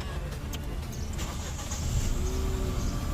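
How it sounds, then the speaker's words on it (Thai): A 2023 Nissan Almera 1.0 Turbo engine starting and settling into a low, steady idle, close and loud, with no talk over it. "เดี๋ยวเรามาสตาร์ทเครื่องยนต์ลองดูเลขไมล์ก่อนเลยนะครับ"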